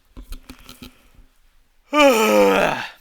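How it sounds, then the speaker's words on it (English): A tired person's long yawn rises loudly into a strained, groaning tone for about a second, following a few faint taps and quiet background sounds. "Yes, that was a yawn."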